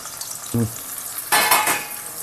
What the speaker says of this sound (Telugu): ఇప్పుడైతే ముందుగా అయితే నూనె మరిగిపోయింది, ఉల్లిపాయలు వేసేద్దాం